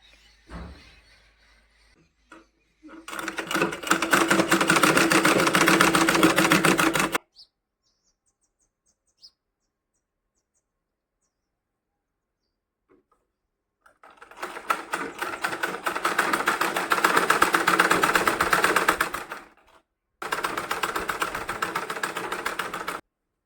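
Domestic sewing machine stitching the neck strip onto a katori blouse, running in two long steady bursts with a shorter third, separated by near silence; fairly close and alone, no talk.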